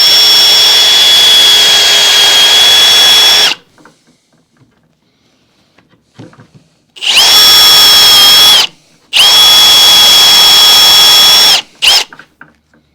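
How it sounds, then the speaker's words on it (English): A power drill whines loudly while drilling a hole in wood, in three long bursts separated by quiet pauses, ending with a short final burst, high-pitched and close. "So I'll drill a hole"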